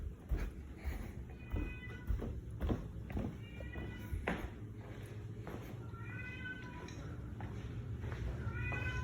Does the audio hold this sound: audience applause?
no